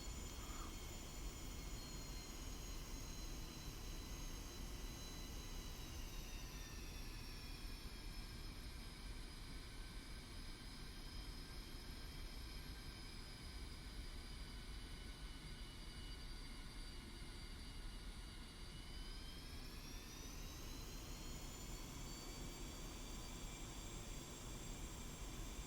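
Su-25T jet engines running on a runway in the DCS World flight simulator, a continuous broad roaring whine with whistling tones that dip and rise again, steady and unbroken, no talk.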